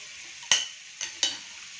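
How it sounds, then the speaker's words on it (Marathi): Butter melting in a pan for masala pav, with a soft, steady sizzle running throughout and three short clinks or taps of a spoon against the pan, close and fairly quiet. "आता आपलं बटर छान मेल्ट झालं"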